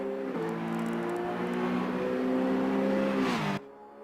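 An Aston Martin GT4 race car engine heard from outside in a racing video game holds a steady, droning tone, dips slightly in pitch, then climbs before cutting off abruptly.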